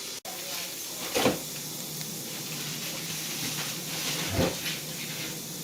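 Bell peppers sizzling in a pan, a steady broad hiss with a couple of soft clatters from stirring, a faint voice in the background.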